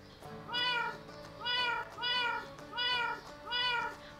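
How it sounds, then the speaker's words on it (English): A cat gives five clear, evenly spaced meows, each a drawn-out rising and falling call, close and fairly loud over a quiet background. "Cat."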